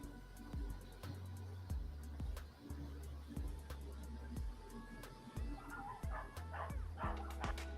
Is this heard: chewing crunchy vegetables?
no